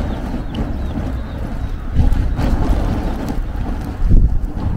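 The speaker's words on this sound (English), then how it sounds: "it's too windy to be barbecuing out here" Strong wind buffets the microphone in loud, rumbling gusts, surging and easing outdoors at a barbecue grill beside an RV, with no other sounds standing out.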